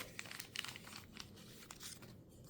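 A paper pack of WW2 death cards is torn open and handled, giving soft, quiet crinkling and rustling in short irregular bursts.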